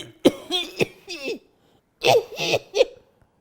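A person coughs in two short fits of several harsh, hacking coughs each, close and fairly loud, separated by a brief pause.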